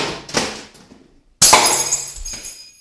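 Cats knock over a glass cup, which breaks. A couple of light knocks come first, then a sudden loud smash and a brief ringing scatter of glass shards.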